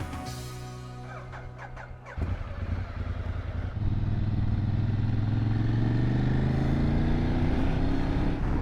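A motorcycle rides along a road on a group trip, its engine revving up close and loud, then settling into a steady drone with rising pitch as it accelerates, with wind noise.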